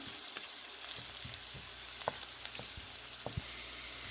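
Ginger and garlic sautéing gently in a pan for potato roti, a soft steady sizzle with occasional light clicks of stirring, quiet and close.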